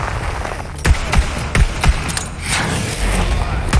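Rapid bursts of gunfire from a fast-firing weapon in the shooter game Borderlands 3, sharp cracks repeating in quick, uneven volleys close up and loud, over a steady game background.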